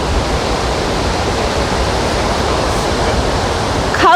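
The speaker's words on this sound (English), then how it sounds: "That is one powerful waterfall." A powerful waterfall, Kalaseja Falls in a North Carolina temperate rainforest, roars as a steady, loud broadband rush of crashing water, unbroken throughout with a brief extra splash near the end.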